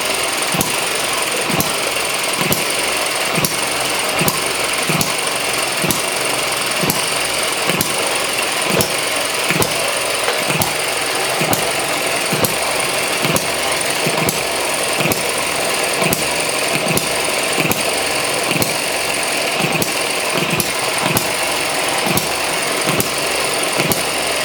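A small ET6 hit-and-miss engine runs steadily on a bench, giving a loud, regular train of evenly spaced firing thumps over a constant mechanical clatter, with no talking.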